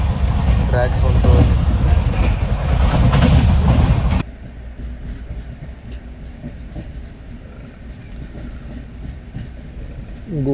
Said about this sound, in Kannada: ಗೂಡ್ಸ್ ಟ್ರೈನ್ ಕ್ರಾಸಿಂಗ್ ಸಂಬಂಧ